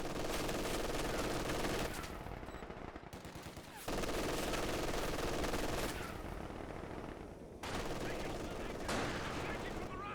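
Sustained machine gun fire rattles through a Company of Heroes 2 battle, loud continuous bursts with brief dips, mixed with other battlefield noise and a commentator talking over it.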